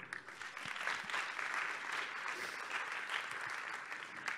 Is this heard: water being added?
no